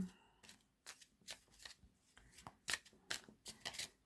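Tarot deck cards shuffled by hand during a reading, soft crisp riffles and flutters in short repeated bursts, fairly quiet and close, with no talking over them.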